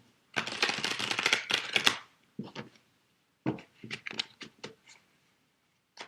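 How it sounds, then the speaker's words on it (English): Playing cards riffle-shuffled in a quick, dense flurry, then a few lighter taps and snaps as the deck is squared up. Close and fairly quiet. "I'm just giving the cards a good shuffle."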